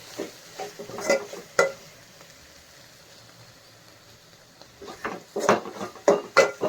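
Cabbage keema fry being stirred in a pan, with intermittent scraping strokes in two bursts separated by a quieter stretch, close and moderately loud with no talk.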